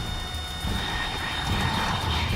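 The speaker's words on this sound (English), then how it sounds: "Oh no, Migs!" Jet aircraft roar of MiG fighters in the video game Metal Gear Solid 3, a steady broad rushing drone that swells slightly partway through, loud and sustained with no voices.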